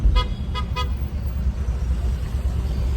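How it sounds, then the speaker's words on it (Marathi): Traffic jam behind a large truck at a roadside point, with three quick car horn toots at the start over a steady loud rumble of idling engines and road noise. "आता इथं जाम लागलेला आहे ट्रॅफिक जाम एक्सलो पॉईंटला फायनली खतरनाक जाम लागला आहे"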